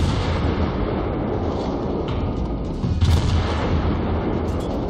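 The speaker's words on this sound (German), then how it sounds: "Ich hatte Glück, dass meine Granaten wie immer vor der einschlagen" Naval gunfire in World of Warships: a steady roar of heavy shells firing and striking, with low rumbling booms throughout and a louder impact burst near the three-second mark.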